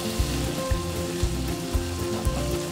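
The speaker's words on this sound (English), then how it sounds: "Distribute it evenly and stir fry until the liquid is reduced almost completely" Minced meat with doubanjiang and seasoning sizzles in a stir fry for cold tantanmen noodles, a close, dense hiss with periodic low thumps of stirring, and no voices.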